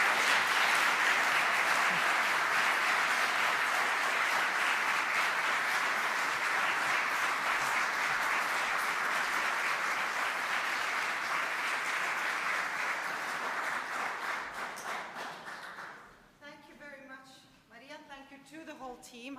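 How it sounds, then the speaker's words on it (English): A conference audience gives a long, full round of applause, dense and steady clapping that gradually thins out before a speaker begins talking as it fades. "I will invite you to give a round of applause"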